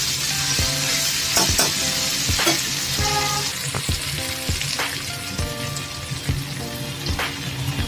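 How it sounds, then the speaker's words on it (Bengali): Spicy fish curry masala sautés in a pan, sputtering loudly up close while a spatula knocks and scrapes in repeated strokes over the continuous sizzle, with no speech. "ভালো করে কষিয়ে নেওয়া হয়ে গেছে"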